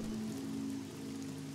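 Steady rain patters softly and faintly on a surface, a continuous low hiss with a faint hum beneath it.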